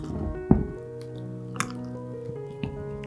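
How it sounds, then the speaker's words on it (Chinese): Sourdough starter fed with flour and water is stirred by hand, giving soft sticky squelches and wet drips at irregular intervals, close and quiet against a faint steady background hum. "充分搅拌混合均匀以后"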